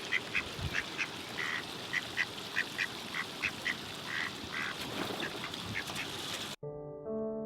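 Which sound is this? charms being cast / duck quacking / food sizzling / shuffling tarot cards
duck quacking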